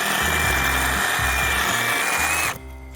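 A Hart brushless reciprocating saw cuts through wood with a loud, close, harsh rhythmic rasp and a steady motor whine, pulsing with each stroke of the blade, then stops abruptly near the end, leaving a faint hum.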